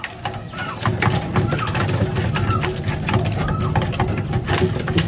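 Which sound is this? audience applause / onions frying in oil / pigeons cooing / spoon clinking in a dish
pigeons cooing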